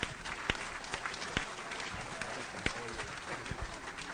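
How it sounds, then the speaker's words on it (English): Audience applause at a Republican congressional debate for Florida's CD 7 hosted by The Floridian, greeting the moderator: steady dense clapping with a few louder sharp claps, moderately loud, some voices mixed in. "So give him a round of applause"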